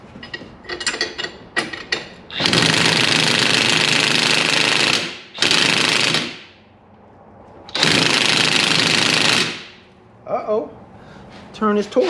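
A battery impact wrench hammers at a shock bolt on a Pioneer 1000 side-by-side in two loud rattling bursts of about three and two seconds, with short clicks and handling noises around them.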